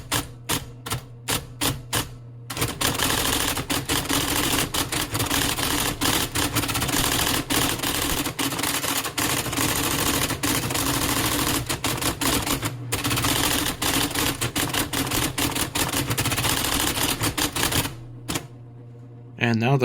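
An IBM Selectric II typewriter converted to run as a Linux teletype hammers out text in a dense, rapid clatter, with quick single strikes at the start and pauses near the end, loud and close.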